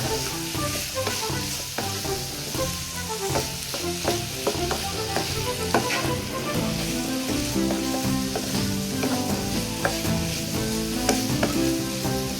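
Curry leaves and crushed onion fry in a pan for a plantain stir-fry with a strong, steady sizzle. Repeated scraping strokes of stirring cut through the sizzle at irregular intervals.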